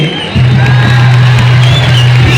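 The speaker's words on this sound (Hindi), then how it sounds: "एक जोरदार तालियां बजाएं हमारे जमूरे के लिए" Crowd applause and cheering at a school Republic Day function after a jamura act, loud and close with a steady sustained tone running underneath.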